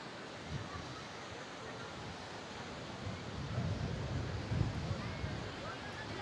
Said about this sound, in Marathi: फायनली मालवण बीचला आलोत आणि मस्त असं व्ह्यू आहे